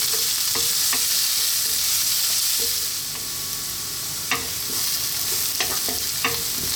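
Carrots stir-frying in a pan for restaurant-style chicken fried rice: a steady loud sizzle with occasional sharp clinks of a utensil scraping and stirring.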